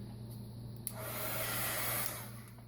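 Hair dryer or heat gun blowing steadily on craft paint on an artist trading card, a close continuous whoosh that swells in the middle and then eases, with a faint click near the start.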